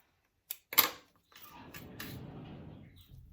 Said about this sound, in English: Sorry about that loud squeaky door